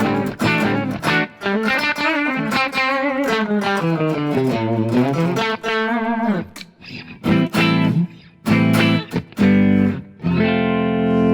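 A 1972 Gibson ES-335 electric guitar with embossed Gibson humbuckers played through an amp, sustained distorted chords and bending melodic lines ringing out, followed by separate strummed stabs with brief gaps between them.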